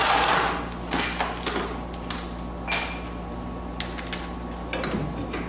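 Screws being removed from a 1994 Sea-Doo SPI jet ski with a locked-up motor: scattered short clicks and scrapes of a tool at close range over a steady low hum.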